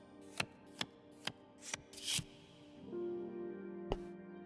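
Tarot cards shuffled in The Cosmic Wheel Sisterhood video game: a run of crisp, evenly spaced card flicks and a brief riffle, then a soft sustained tone with one last snap, heard alone.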